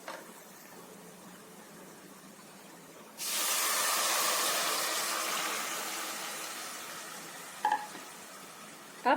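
Kadhi batter hits a hot pan of ginger-garlic paste and chopped onion, producing a sudden loud hiss that slowly fades over several seconds, followed by a brief clatter near the end.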